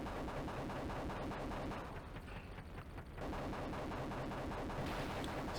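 Hellfire missiles and guns fire from an attack helicopter in the 1992 Mega Drive game Desert Strike, a dense stream of rapid retro shots with a brief lull midway, steady and loud against no talking.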